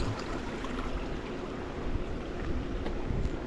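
A creek flows beside a trail in Glacier National Park, its steady broadband rush of water running continuously and fairly close, with no voices.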